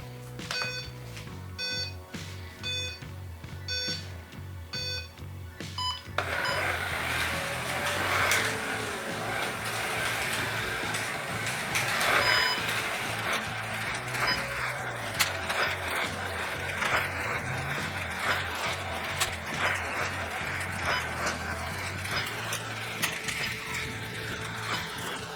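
A Carrera Digital 132 Plymouth Superbird slot car with no rear magnet runs laps on a track. It gives a steady whirring, ratcheting mechanical buzz that rises and falls as it circuits, after a few seconds of rapid electronic beeping.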